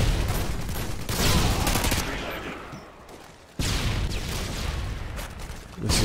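Grenade explosion in the video game Modern Warfare 2, a loud broadband blast that hits suddenly amid a dense wash of gunfire and rumbling battle noise.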